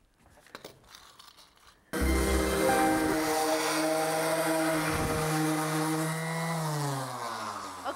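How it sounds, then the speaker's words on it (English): A random orbital sander with dust extraction sands the edges and top of a wooden outdoor table, starting abruptly and running as a loud, steady whine and hum that dips slightly in pitch toward the end. "this is a random orbital sander, which spins and actually vacuums the sawdust as you go"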